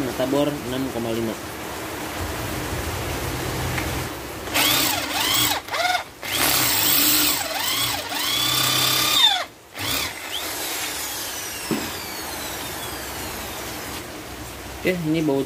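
An electric drill with a 6.5 mm bit widens a hole while making a bearing-removal tool: loud, close whining bursts that start and stop several times, pitch sagging under load, with someone talking between runs.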